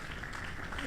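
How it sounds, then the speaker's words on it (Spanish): Steady applause from a crowd, a dense wash of clapping that holds evenly for under a second. "Dale un aplauso fuerte al Señor"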